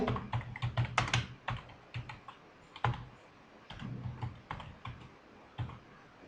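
Typing on a computer keyboard while entering an address into a document footer: quiet, close clicks in irregular bursts with short pauses between, no talking.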